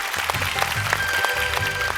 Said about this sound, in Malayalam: ആദ്യം തന്നെ ഓർക്കസ്ട്രക്ക് ഒരു വലിയ കയ്യടി.